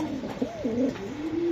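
Giribaz pigeon cooing close by in a loft, a single soft rolling coo with rising and falling pitch, fairly quiet and alone.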